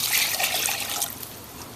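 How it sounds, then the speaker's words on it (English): Water poured into a pan of dissolved granulated sugar to make a syrup for poached pears, a steady close splashing rush that stays loud throughout and tapers slightly near the end. "You're going to add 2 1/4 cups of water."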